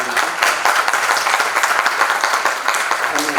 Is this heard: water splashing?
no